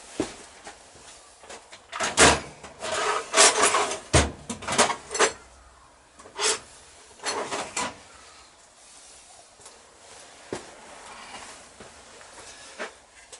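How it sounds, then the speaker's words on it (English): Metal screwdriver work on the rear brake of a Yamaha XS650 motorcycle build, a series of sharp clicks, knocks and scraping clunks in irregular bursts, close and fairly loud, with quieter shuffling between. "Let's get out a screwdriver to get the brake pads apart."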